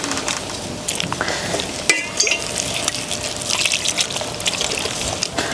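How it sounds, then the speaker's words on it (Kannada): Water trickles into rice and maida flour batter with turmeric for a green gram snack, a close wet pouring and splashing with light stirring, mid-level and without talk. "ಸ್ವಲ್ಪ ನೀರು ಹಾಕಿ ಇದನ್ನು ಕರಗಿಸಿಬಿಡ"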